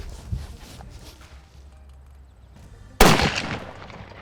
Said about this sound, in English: Fire one more for accuracy.